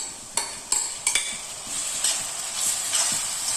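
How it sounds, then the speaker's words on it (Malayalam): Chopped tomatoes hit hot oil in a pan for fried chicken biryani, giving a steady close sizzle broken by several sharp clinks and scrapes of a spoon stirring against the pan. "ഇനി ഇതിലേക്ക് തക്കാളി അരിഞ്ഞത് ഇട്ട് കൊടുക്കാം"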